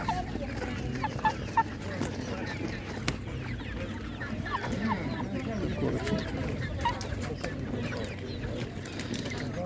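Chickens cluck and call at an outdoor livestock market in Ukraine, a steady, fairly faint background of fowl sounds with occasional louder clucks amid general market murmur and talking.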